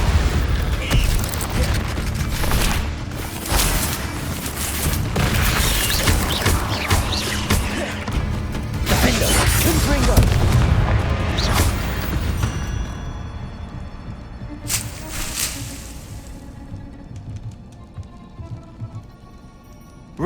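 Confringo fire-blast spells explode in Hogwarts Legacy combat, a dense run of loud booms and crashes over the first twelve seconds before thinning into scattered impacts and quieter ambience, with occasional voices mixed in.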